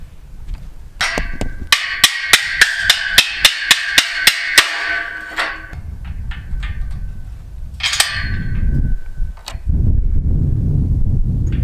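A sledgehammer pounds during the hanging of a ranch gate on a homestead: about ten loud, evenly spaced metallic blows land close by, then give way to rustling, scraping and a few scattered clanks.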